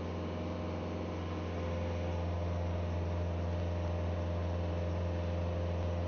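A Kubota SVL track loader's engine drones steadily at full RPM, a constant close-up hum with strong low tones and broad noise and no change in pitch, no voices.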